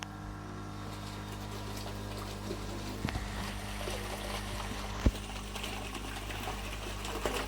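An LP60 aerator runs in a 1000 liter fish tank, giving a steady low mechanical hum with a faint watery bubbling trickle throughout and a couple of brief knocks.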